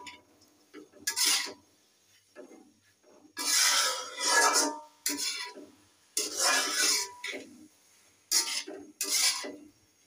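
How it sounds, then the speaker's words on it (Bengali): Carrot halwa being stirred in a pan: repeated bursts of scraping and rubbing from a spoon against the pan, with short pauses between strokes. "আমি এইভাবে সুন্দর করে নেড়ে চেড়ে দিচ্ছি।"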